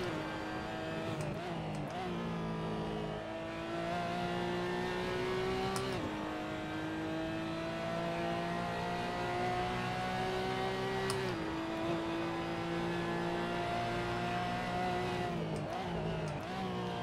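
Porsche GT4 Clubsport racing engine in a video game, droning steadily and loud throughout, with rising pitch sweeps broken by sharp gear-change drops around every few seconds as it accelerates.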